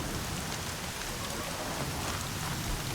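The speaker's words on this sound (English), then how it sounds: "Snow and rain effects." Steady, dense rain in Horizon Zero Dawn, a continuous broadband hiss of drops on surfaces filling the scene evenly from start to finish with no voices.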